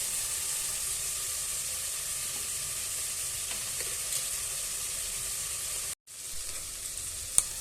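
Chopped tomatoes frying in a pan for vegetable biryani, giving a steady soft sizzle with occasional stirring scrapes and one brief break in the sound.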